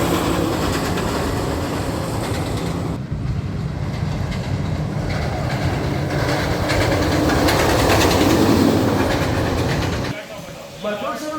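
The Arieforce One roller coaster train at Fun Spot Atlanta gives a loud, continuous rumbling roar as it races along its track. The din cuts sharply near the end, and voices can be heard over it.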